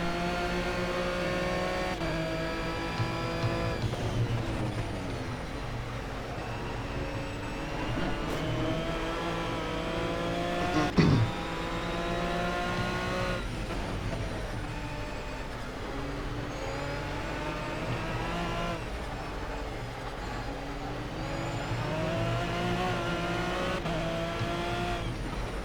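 An Aston Martin V12 Vantage GT3 race car laps Le Mans' Circuit Bugatti, its V12 engine screaming through continuous upshifts and downshifts with rising and falling revs, heard from onboard for a long, unbroken stretch.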